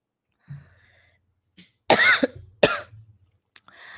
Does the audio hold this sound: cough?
yes